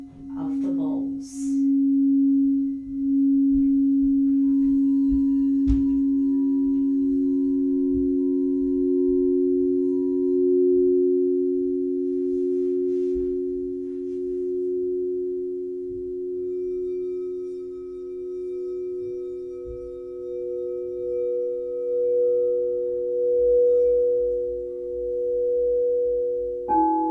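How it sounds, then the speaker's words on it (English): Singing bowls ring out in a sound bath, sustaining long pure tones that hang evenly for many seconds, with a second higher tone joining later, and a soft voice guides quietly underneath. "settle into your breath and into the sounds of the bowls"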